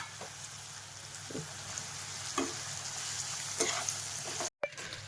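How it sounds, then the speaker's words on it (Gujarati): Schezwan rice being stirred and mixed with masala in a hot pan, a continuous close sizzle broken by several soft scraping stirs and one brief dropout. "હવે રાઈસ નાખીએ તો સરસ મજાને કરી લઈ મિક્સ"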